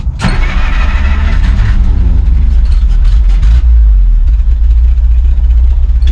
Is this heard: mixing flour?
no